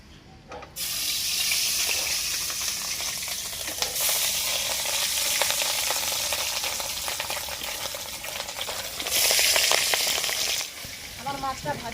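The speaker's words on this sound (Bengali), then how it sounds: "মাছটা ভেজে নেব। লাল লাল করেই মাছটা ভেজেছি।" Rohu fish pieces, salted and coated in turmeric, sizzle in hot oil in a home kitchen, with a steady broad hiss of frying that runs for most of the time, swells near the end, and then drops away.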